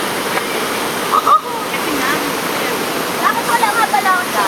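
A steady broadband rush of a waterfall fills the scene, loud and continuous, with a few brief splashes and faint voices breaking through now and then.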